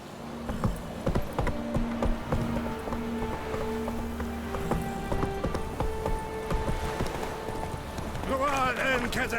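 Horse hooves clatter in quick rhythmic clip-clops as a mount gallops in The Witcher 3, with a voice urging it on over the steady pounding.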